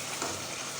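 Sajana vegetable fries in a pan with a steady, dense sizzle throughout, close and even, with no voices.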